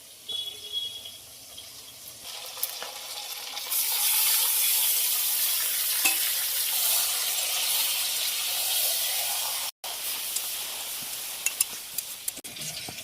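Mutton pieces dropped into hot oil with onions fried deep red-brown for a yogurt mutton curry, giving a loud, steady sizzling hiss that swells and holds, broken by one brief cutout near the end.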